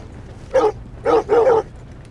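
A dog in Red Dead Redemption 2 barks three times, two quick woofs in a row after a single first one, fairly close and clear over quiet ambience.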